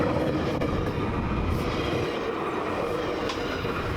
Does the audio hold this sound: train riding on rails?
yes